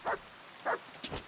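Dog barking in a video game: three sharp barks, the third a doubled yelp, spaced about half a second apart and fairly close.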